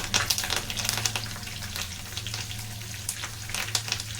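Cinnamon, cloves, dry red chillies and curry leaves fry in hot oil for pudina rice, giving a close, crackling sizzle with irregular pops and spatters over a constant low background hum.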